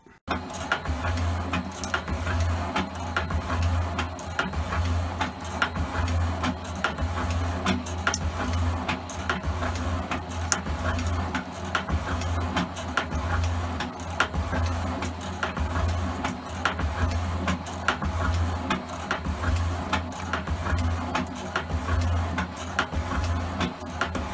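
An Elliot 10M metal shaper makes a cutting pass on a steel plate, its ram thumping back and forth in a steady repeating rhythm with regular ticking clicks, close and continuous throughout.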